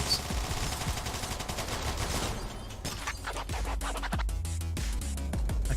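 Grenades going off in the video game All Day Dying, a dense barrage of sharp blasts and crackling detonations over loud game music, with rapid bursts continuing throughout and no pauses.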